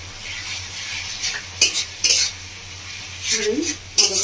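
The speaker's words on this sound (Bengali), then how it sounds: "মশলাটা কষিয়ে 3-4 মিনিট ভালো কষিয়ে নেব।" Ginger, garlic, black pepper and dried chilli paste frying and being stirred with tomato in a pan for a Bengali village-style kalbos fish curry; a low steady sizzle broken by several sharp scrapes and clinks of a spoon against the pan, no talking.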